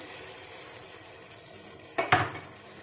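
Macaroni sizzles softly in a pan as soy sauce, vinegar and ketchup are mixed in. Near the end a brief utensil clatter rings against the pan over the steady frying hiss.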